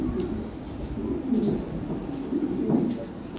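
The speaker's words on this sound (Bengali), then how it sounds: "দেখেন কি কবুতর" Lahore Siraji pigeons cooing inside a cage, soft low rolling coos rising and falling in several overlapping bursts, fairly close, with faint background noise.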